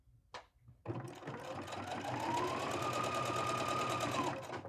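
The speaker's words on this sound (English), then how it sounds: "we're going to sew all the way down our seam" A sewing machine stitches down a seam of a quilt block for a drawstring bag, starting after a brief click and then running as a steady, fast, close mechanical whir until it stops.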